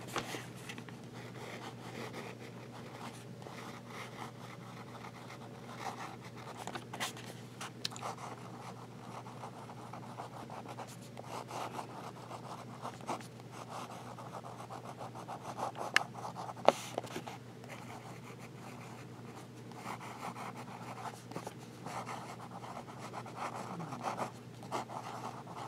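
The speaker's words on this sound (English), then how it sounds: "And we'll do a few little swirls here." Fountain pen nib scratching swirls on paper, a faint continuous scratchy rasp with small irregular strokes over a steady low hum.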